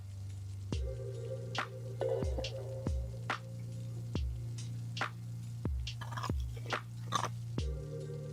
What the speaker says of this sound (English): Y'all want some ice crunching ASMR?